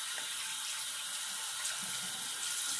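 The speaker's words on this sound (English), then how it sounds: "Okay, rinse my hands off." Tap water running into a sink while hands are rinsed, a close, steady splashing flow that holds constant for a few seconds.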